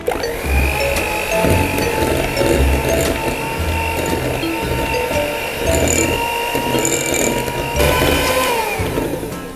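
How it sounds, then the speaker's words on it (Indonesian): An electric hand mixer runs at low speed through cookie dough for cheese chocolate nastar cookies, giving a loud, steady close-up whir with a rhythmic grinding and knocking texture throughout. "lalu akan saya mixer hingga tercampur rata saja"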